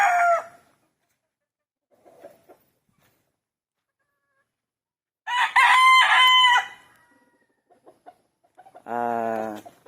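Gamefowl roosters crow in a farmyard breeding pen, with two loud, drawn-out cock-a-doodle-doos spaced apart, a brief cluck between them, and quiet gaps elsewhere.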